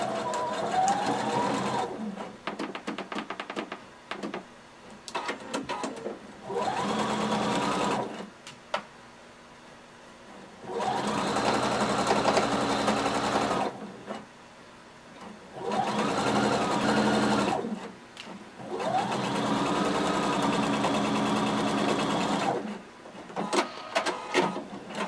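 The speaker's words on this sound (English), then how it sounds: "And we're going to sew using 5/8 of an inch seam allowance." A sewing machine stitches a jumpsuit seam at a 5/8-inch seam allowance, with several steady whirring runs of stitching separated by short pauses, close and fairly loud.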